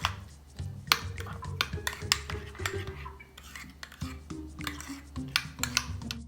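Coleslaw being tossed with salt and fresh ground pepper in a bowl, a quiet run of irregular utensil clinks and scrapes with soft mixing rustle, close up.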